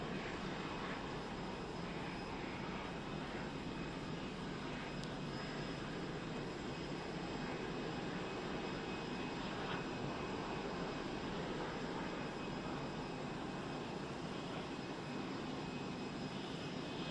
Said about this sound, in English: the civilian airplanes already pulling in the airport as well